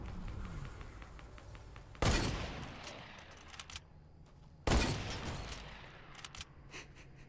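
Two sharp hunter rifle shots ring out in Fortnite gameplay, each a loud sudden crack with a short decaying tail, spaced about three seconds apart over quiet game ambience.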